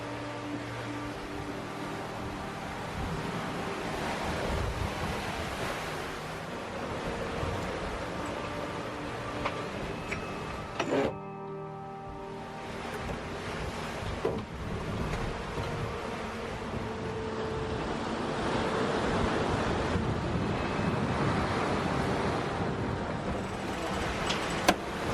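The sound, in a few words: strong wind and ocean waves while sailing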